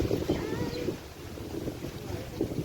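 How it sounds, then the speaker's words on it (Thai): Dry wind blowing outdoors in rural Isan farmland, a steady broadband rush buffeting the microphone with gusty swells throughout. "ลมแห้งเนาะ"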